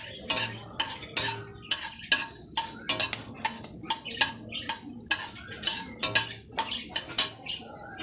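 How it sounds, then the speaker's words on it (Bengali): A dried red chili fries in hot oil with a soft sizzle, nearly buried under repeated sharp clinks and scrapes of a utensil stirring the pan at an uneven pace. "তেলটা গরম হয়ে গেছে। এই তেলের মধ্যে আমি একটা শুকনো লঙ্কা"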